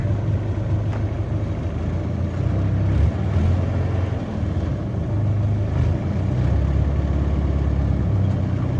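A 2005 Bobcat V723 telehandler engine runs at a steady low idle, a constant close diesel rumble with no talk.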